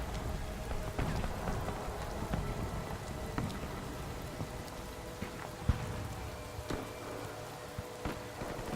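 Steady rain patters across surfaces in Rise of the Tomb Raider, a dense, even hiss with scattered louder drops and faint low rumbles, holding at moderate volume throughout with no voices.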